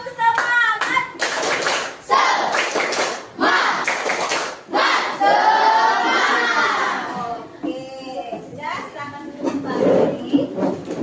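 Schoolchildren in a classroom repeat a rhythmic cheer clap, with sharp patterned handclaps in quick groups alongside loud group chanting and shouts.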